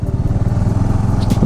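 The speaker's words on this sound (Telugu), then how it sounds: "బైక్స్ అయితే అక్కడ దాకా కూడా పోతున్నాయి." Motorcycles drive past near the Sri Penusila Lakshmi Narasimha Swamy Temple at Penchalakona in Nellore District, a close, steady engine putter with a rapid low pulsing rhythm throughout.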